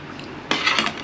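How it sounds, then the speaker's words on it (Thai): A metal spoon clinks and scrapes against a dish while a spicy Thai beef and tripe salad is tossed. A burst of several quick clinks arrives partway through after a quiet start, close and fairly sharp, with no talking. "ขออนุญาตใช้ช้อนนะคะ"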